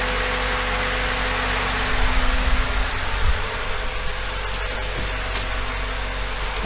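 Ford Fiesta mk3 engine idling steadily with the radiator cooling fan running, a constant low hum and broadband whir close by, with a slight rise in rumble midway.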